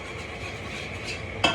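A spoon stirs a black roux of oil in a pan for seafood gumbo, a soft, continuous scraping with faint sizzle, ending in a brief sharp clink.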